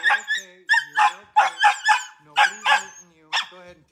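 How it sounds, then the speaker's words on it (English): Frightened puppy whining and yipping in a rapid run of high, wavering cries and short barks, close and fairly loud, with no other sounds between the calls. "Puppy's freaking out."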